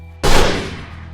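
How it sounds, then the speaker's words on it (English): A single loud gunshot cracks suddenly, then rings out in a long echoing decay that fades over about a second. "A gunshot rang out and echoed off the building."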